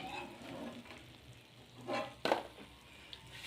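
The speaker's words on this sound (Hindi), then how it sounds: "इनकी आवाज़ खस्तापन की निशानी है कि ये कितने खस्ता हो गए हैं" Sweet shakarpare frying crisp in hot oil give a soft continuous sizzle with a few louder bubbling bursts and crackles near the end, close and moderately quiet, with no talking.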